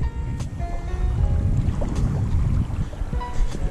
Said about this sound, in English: So much wind, probably can't even hear anything.